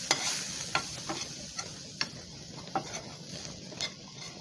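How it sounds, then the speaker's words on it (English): Spoon scraping and stirring flour into a bubbling pan sauce for a spinach and chicken creamy pasta, a steady series of sharp clinks and scrapes over a low simmering sizzle, close and clear. "Stir it nicely."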